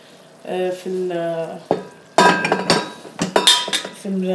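Caramel popcorn stirred in an oiled pot with a brush, giving a scraping, rustling clatter with sizzling bursts, broken by short stretches of close, clear speech.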